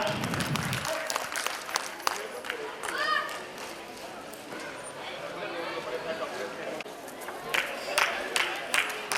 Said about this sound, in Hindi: तालियों से स्वागत करें इनका।